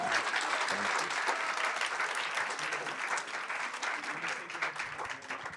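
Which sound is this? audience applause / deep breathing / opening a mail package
audience applause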